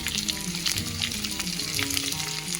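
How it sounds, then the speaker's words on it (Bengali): Potatoes fry in a pan of hot oil with a continuous, even sizzle and crackle from close by, with no voices. "ধরো আলুটা ভাজা হয়ে গেছে মোটামুটি"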